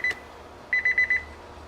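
A barbecue smoker's low-temperature alarm beeps once, then after a pause sounds a quick run of four high-pitched beeps in a steady rhythm.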